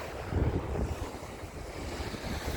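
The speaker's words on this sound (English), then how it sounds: "on a beautiful beach in Philippines, and the sea's lapping up sand" Sea waves lap up the sand on a Philippine beach, a continuous wash of surf with gusts of wind buffeting the microphone and a louder surge early on.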